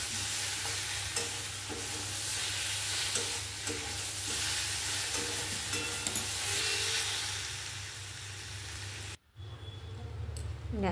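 Spiced curry sautéing in a pan, a steady close sizzle with repeated scraping and stirring strokes, ending in a sudden brief drop to near silence before frying noise resumes.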